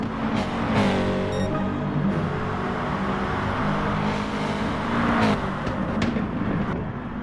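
A touring car engine in an online racing game at Spa, rounding the hairpin and heading toward Eau Rouge, roars loudly and steadily, its pitch rising and falling as the car shifts and revs, with no pauses.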